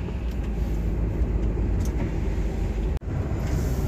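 A truck rolls slowly along a foggy road, its engine and tyre rumble a steady, loud, close drone heard from the cab with no talking.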